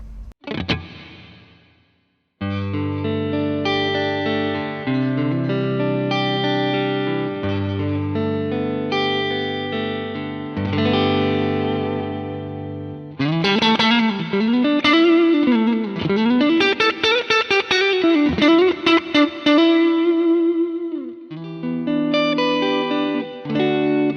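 Electric guitar with a clean, reverb-washed tone through a preamp and IR plays sustained chords, then moves into a bright melodic lead with bends, unaccompanied.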